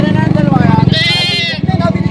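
A goat bleats loudly and close by amid a noisy outdoor crowd at a goat market, with people talking and an engine running in the background.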